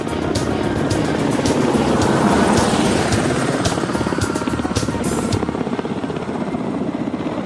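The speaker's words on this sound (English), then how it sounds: "KA-25 submarine Hunter starts off from the deck of the aircraft carrying cruiser to perform a demo flight" A Ka-25 anti-submarine helicopter lifts off from the deck of an aircraft-carrying cruiser, its rotor a loud, dense, continuous thudding roar with turbine whine, steady and close throughout.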